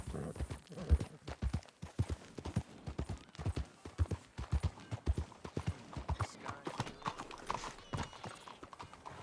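Horse hooves clip-clop in a steady, brisk rhythm on a hard surface in the video game Red Dead Redemption 2, close and distinct, with faint voices in the background.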